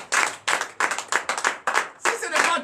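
A church congregation at a night deliverance and prophecy service claps in unison to acclaim Jesus, sharp rhythmic bursts of many hands about twice a second, with voices mixed in.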